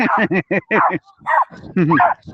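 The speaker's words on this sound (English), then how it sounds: "Was it a dog? Another dog?" A dog barks and yips in quick, loud, close bursts, several sharp calls in a row followed by a few more after a brief pause.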